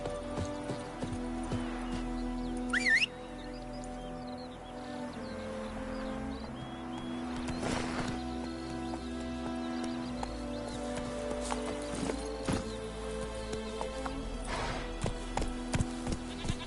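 A horse in The Witcher 3: Wild Hunt gallops with steady, rhythmic hoofbeats under a low hum of game music, with a brief whinny-like squeal near the start.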